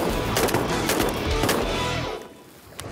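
Shotguns firing at sea ducks during a waterfowl hunt on open water: several close, loud blasts go off in rapid overlapping succession, then quickly fade into quiet.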